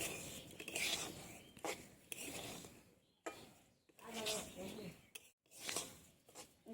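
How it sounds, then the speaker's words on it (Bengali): Moong dal dry-roasting in a pan for Bengali-style moong puli, with repeated scraping and rubbing strokes of a utensil against the pan in uneven bursts, close and moderately loud, with brief pauses between stirs. "ডালগুলো ভালো করে ভেজে নেবো"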